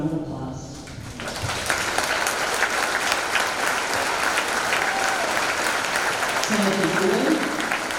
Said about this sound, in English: I would like these students to please stand and receive a round of applause.